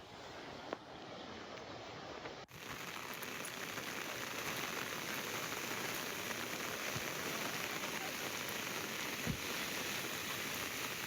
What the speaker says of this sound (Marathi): मुसळधार पावसामुळे नद्या नाले दुथडी भरून वाहत आहेत